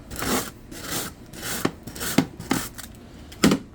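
Hand sanding a C3 SMC (sheet molding compound) panel with 80 grit sandpaper gives rough rasping strokes in an irregular rhythm, close and fairly quiet, with several sharper scrapes.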